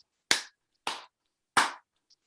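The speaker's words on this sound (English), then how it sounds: "I'm the only one clapping." A single person claps three times at a club meeting, each clap sharp and close, with pauses of roughly a second between them in an otherwise quiet room.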